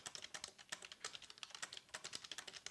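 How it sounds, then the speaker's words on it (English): Near-silent typing on a Logitech Keys-To-Go Bluetooth keyboard, a quick run of soft, close key taps in an irregular rhythm, faint and alone. "the killer feature that makes the Keys to Go the winner, and that is its near silent typing"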